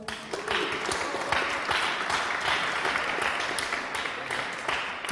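Steady audience applause at a hackathon opening event, dense and even, holding at a constant level throughout with no break.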